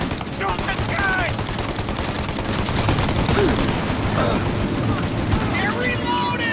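Dense gunfire from a shootout in the video game Mafia crackles and booms continuously, with overlapping shots, shouted voices and faint chirping sounds mixed in.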